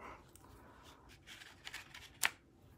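Scissors snip off the loose end of a ribbon above a knot, a few quiet close-up cuts and rustles ending in one sharp clip.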